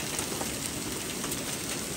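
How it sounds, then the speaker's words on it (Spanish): Hailstones come down outdoors in a thick, constant patter of many small hard hits, a loud and steady hiss of impacts with no talking. "Está cayendo puras bolas. Oh my goodness, es granizo."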